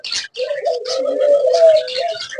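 Doves on a breeding farm coo close by in soft, repeated throaty calls, with brief chirps mixed in.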